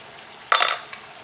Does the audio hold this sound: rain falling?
no